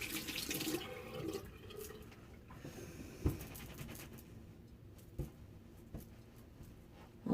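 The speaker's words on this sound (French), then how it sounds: "Vous rincez bien les mains." Hand rinsing under a running tap, with a soft steady stream of water at the start fading to faint splashes and a few small knocks, close and quiet.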